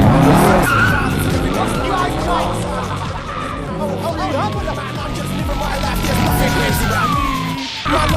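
A stolen car driven hard in a film scene, tires squealing and skidding continuously with engine roar, long sweeping screeches over about eight seconds, loud and close.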